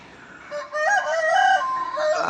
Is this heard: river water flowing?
no